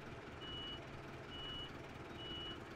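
Hazard warning beeps from a Fendt Farmer 310/312 LSA tractor mod in a farming video game, three evenly spaced high tones over a steady engine rumble.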